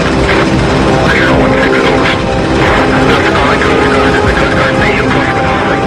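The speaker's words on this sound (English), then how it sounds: "a Coast Guard helicopter begins its response" A Coast Guard helicopter flies out on a sea rescue against strong headwinds, giving a loud, continuous rotor and engine roar with a voice heard over it.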